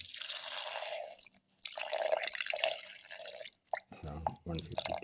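Milk pours into a blender jar holding plum pieces for a rice flakes milkshake, a trickling, splashing stream in bursts with short pauses, followed by quiet spoken words.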